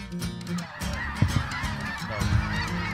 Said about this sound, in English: all of a sudden, here come the geese. Specks, snows, lesser Canadas, you name it